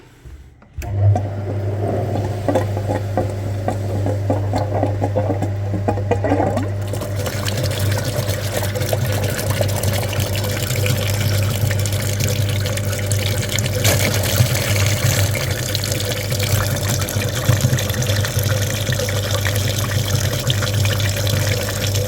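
A flushing machine switches on and pumps cleaning liquid through a car's heater radiator, a steady loud rushing flow with a low motor hum that continues unbroken after a sudden start.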